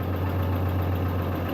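Farm tractor engine running during harvest work, a close, steady low idle hum with a constant rumbling drone and no other sounds.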